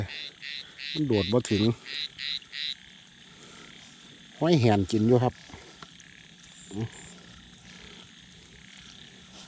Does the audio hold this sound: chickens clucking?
no